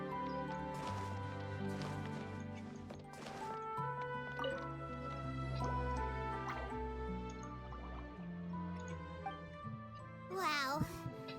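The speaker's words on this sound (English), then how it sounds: "it sounds like a water droplet is on the second floor" Water drips in a video game set in Veluriyam Mirage, with scattered droplet plinks layered over steady game music and a brief wavering effect near the end.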